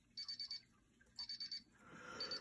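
A Paradox security keypad (K10H/K10V or K35/K37 type) beeps during its exit countdown: two bursts of four quick high-pitched beeps with a short gap between them, faint and close, followed by a rising hiss.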